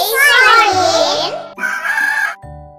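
A hen clucks and crows in a children's alphabet song, a loud bird call against sung music with a steady backing beat.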